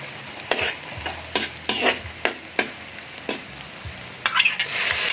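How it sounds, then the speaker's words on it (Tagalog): Garlic, onion and ginger toasting in a pan, a continuous sizzle punctuated by about ten sharp scraping stirs, close and clear, with no talk. "Toasted natin ng konti yung bawang at sibuyas, pati na rin ang luya."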